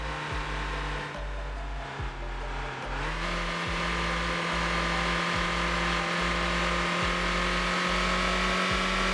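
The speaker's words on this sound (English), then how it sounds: "Not that the engine sound is any better going up the mountain" A car engine in the Motor Town driving game drones steadily while climbing a mountain road, its pitch stepping up partway through, with regular rhythmic ticks underneath.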